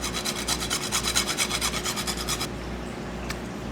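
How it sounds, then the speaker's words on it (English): Nutmeg grated over mini eggnog cheesecakes: quick rhythmic rasping strokes, about a dozen in a row, close and clear, then stopping abruptly, followed by a faint tick and low background hum. "all we're going to be doing now is just grating some nutmeg onto it"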